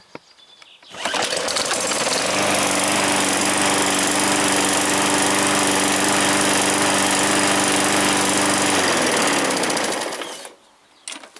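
A Sentar SH48T lawn mower engine catches on a pull-cord start and runs at a steady high buzzing drone for about nine seconds, loud and close, before cutting out.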